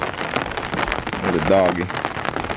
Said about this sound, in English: But it's just pouring, you can't move much around.